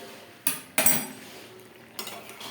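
A pot lid lifted and a spoon stirring bhindi posto curry, with a couple of sharp metallic clanks and knocks against the pot followed by quieter scraping, close by with no talk.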